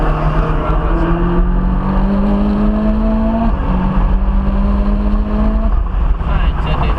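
Ferrari 458 Italia accelerating hard on a race track, its engine note climbing steadily through two long rising pulls with a brief break between gears, loud and close from onboard, with an instructor's voice speaking over it.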